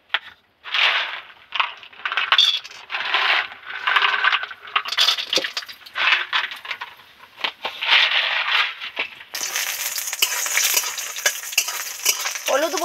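Turmeric-spiced lentil dumplings (bori) are lightly fried in hot oil in a kadai. Close scraping and stirring come in bursts, then a continuous bright sizzle follows.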